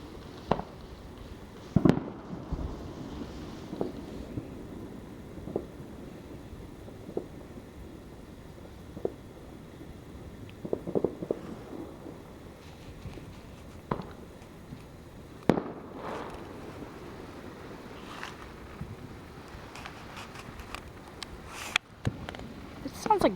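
Fireworks popping and crackling at a distance, scattered irregular bangs over a steady outdoor noise floor, with a few sharper louder bursts standing out.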